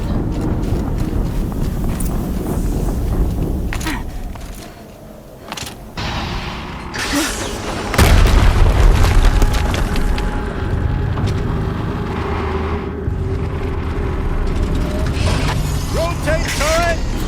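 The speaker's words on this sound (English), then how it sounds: "Another explosion." An explosion in the video game Horizon Zero Dawn erupts as a loud, broad boom midway through, surrounded by dense game effects, mechanical clatter and thumping impacts that continue steadily afterward.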